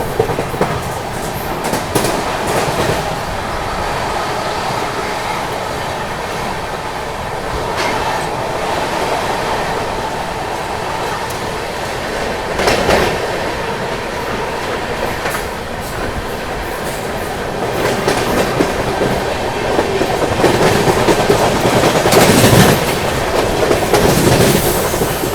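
The Tamil Nadu Superfast Express rumbles steadily through Lalitpur Junction at night, a continuous loud train roar with rhythmic clickety-clack of wheels over rail joints and a brief squeal near the end, with no talking.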